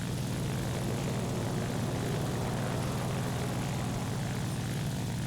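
Steady, loud propeller drone of the XP-55 fighter plane's engine in War Thunder, a continuous low hum with a broad airy wash above it, holding even throughout with no voices.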